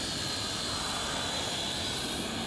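A JJRC H5C quadcopter drone flies on its maiden flight, its small motors giving a constant high-pitched whir that stays loud and steady throughout, with no voices over it.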